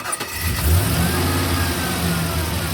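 A Chevrolet K5 Blazer V8 with headers starts up and settles into a loud, close, steady rumbling idle with a low throb and slight revving swells, no talking.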